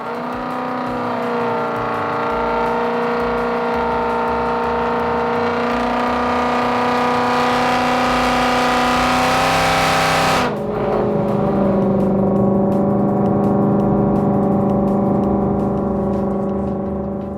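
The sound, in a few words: supercharged Coyote V8 Mustang GT revving on a dyno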